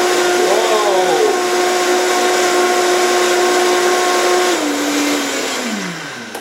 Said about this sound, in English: Bring out the workhorse, the Vitamix.